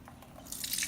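Murky brown rock tumbler water, carrying surface dirt from clad coins and stones, is poured out in a short close pour that starts with a few faint drips and swells into a bright, splashy stream.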